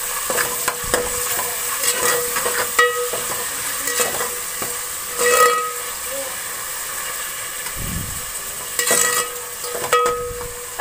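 Ginger garlic paste with coriander and mint sizzles steadily in hot oil in a pan as it is stirred, a close, continuous frying hiss with occasional louder bursts and scrapes.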